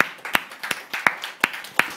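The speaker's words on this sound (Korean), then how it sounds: "우리 주님을 박수로 찬양하십시다" A church congregation claps in praise, about seven sharp, evenly spaced handclaps in a steady rhythm, close and distinct against a quiet room.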